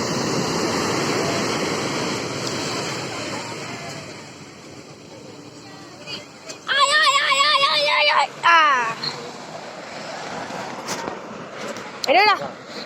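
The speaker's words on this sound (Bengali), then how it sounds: "আর একটা আসছে বড় ঢেউ।" Large ocean waves break and wash in with a steady broad rush that fades and then surges again, while children shout and call out loudly over the surf.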